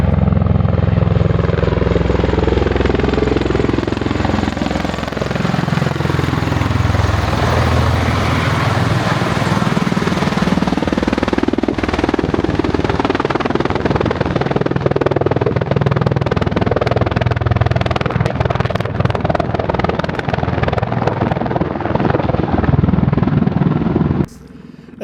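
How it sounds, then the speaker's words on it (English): A US Marines Osprey tiltrotor roars low over an abandoned airstrip, a loud, continuous throbbing rotor drone whose pitch sweeps down and back up as it passes close, then cuts off at the end. "A second Osprey helicopter did the same type of exercise at the other end of the airstrip."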